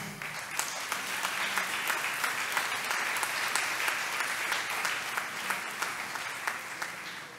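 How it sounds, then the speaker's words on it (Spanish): Sustained applause from a large audience at the 2023 Corverano awards ceremony, steady and dense throughout with crisp clapping texture and no break. "Aplauso."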